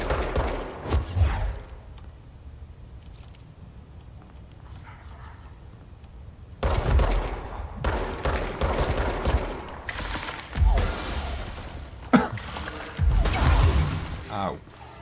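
Gunfire in the game Control, bursts of loud sharp shots and rattling volleys separated by a quieter stretch, then heavy repeated blasts in the second half, with a voice talking between them.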